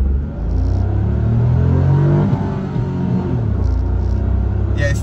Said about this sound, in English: we're just gonna roll into it and see what this vehicle can do.